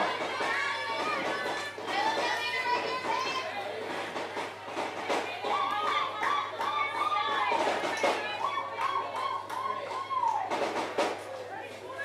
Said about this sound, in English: the ladies really like to cheer their batters on